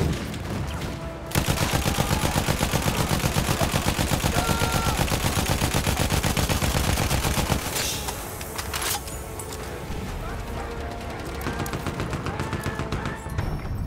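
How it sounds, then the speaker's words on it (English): Battlefield 1 battle with enemy tank gunfire: a long, dense, loud barrage of rapid shots lasting several seconds, then a sharp blast and quieter scattered fire and rumble in the background. "Enemy tank shooting at us."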